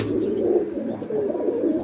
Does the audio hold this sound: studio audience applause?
no